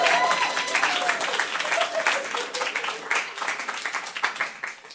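Applause from a comedy club audience during a stand-up set, a burst of clapping with some cheers and voices mixed in at the start, continuing steadily and thinning slightly toward the end.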